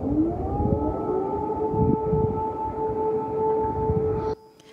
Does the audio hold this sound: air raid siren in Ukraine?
yes